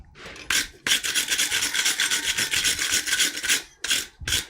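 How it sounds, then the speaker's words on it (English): Workpiece being brushed off in a blacksmith's smithy, likely with a wire brush, giving loud rasping scrubs in bursts with brief pauses, close up and alone without talk. "We'll go ahead and just brush this off real quick."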